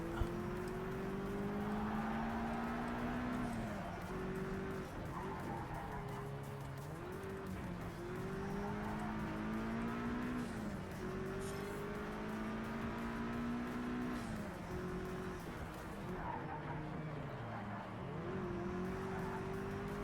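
Race car engines in Project CARS 3, with an Audi among the pack, drone continuously, pitch rising and falling through repeated gear changes as the cars run close together, with no voices.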